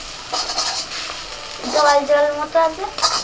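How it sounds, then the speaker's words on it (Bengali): Beaten egg poured into hot oil in a kadai for homemade chow mein, a sharp sizzle bursting up and crackling close by, with a voice briefly over it. "কড়াইতে তেল গরম হয়ে গেছে এবার ডিম দিয়ে দিচ্ছি"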